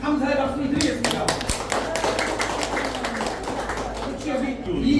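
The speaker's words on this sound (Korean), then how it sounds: "오늘 그런 말씀을 해주신 우리 김민철 단장님께 다시 한번 깊은 감사의 박수를 드리겠습니다." An audience at a Korean political rally supporting a presidential candidate claps in a sustained, uneven burst of applause lasting several seconds, with voices mixed in.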